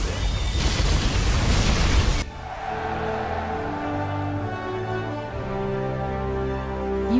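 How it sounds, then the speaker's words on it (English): Particle cannon blast in the video game Command & Conquer Generals Zero Hour: a loud, dense roaring burst lasting about two seconds, then a sustained rumbling hum with layered tones that continues to the end. "Particle cannon activated."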